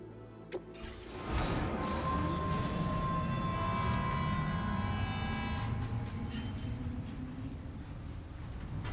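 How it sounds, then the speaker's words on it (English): A monorail train in the video game Death Stranding 2 starts up after a brief thud and runs on as a continuous loud rumble with a faint whine over it. "I need to get on the monorail, don't I?"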